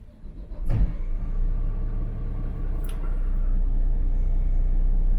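Boat engine cranking and catching on startup, a brief crank burst followed by a steady low rumble that settles into a continuous idle, close and moderately loud, with no talking.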